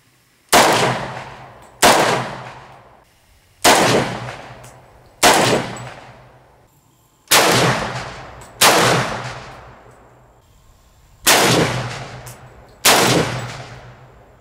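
Eight loud, sharp AK-47 rifle shots fired with a Jmac RRD-4 muzzle brake while the shooter holds only the grip, spaced about every one to two seconds, each with a sharp crack and a decaying echo, no talking.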